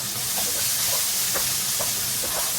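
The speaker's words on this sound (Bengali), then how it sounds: "এই ডালটা আমি এই মশলাটাতে ভালো করে কষিয়ে নিচ্ছি" Mung dal being fried in spices in a pan, giving a constant steamy hiss and sizzle with soft stirring scrapes running through it.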